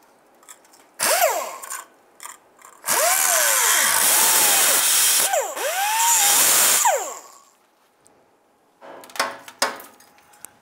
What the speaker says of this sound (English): we're simply going to cut this off